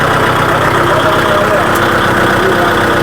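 A Japanese-built four-cylinder tractor engine idling with little vibration, giving a loud, close, steady drone that runs unbroken throughout.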